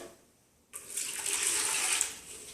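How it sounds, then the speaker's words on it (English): Tap water gushes into a bucket for mixing cement for a kitchen tile floor. After a brief quiet moment, a steady, fairly loud rushing stream starts and continues unbroken. "And I'm going to put the water first"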